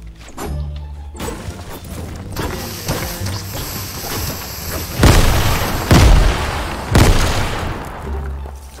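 Grenade explosions in a Rainbow Six video game, several heavy booms with bursts of gunfire and rumbling debris, loud and close.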